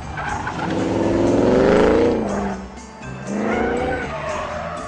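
A Lamborghini Aventador's tires squeal loudly in two long howling bursts as the car skids hard, the first swelling and sustained, the second shorter, with engine noise beneath.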